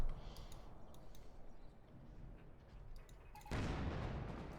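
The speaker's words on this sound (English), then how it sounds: "25-pounder guns, though, of course, unleashing a hell of a barrage there against German positions" A British 25-pounder artillery barrage in the video game Company of Heroes 2 on German positions: scattered distant thuds and pops give way to a sudden loud, sustained roaring blast that lasts to the end.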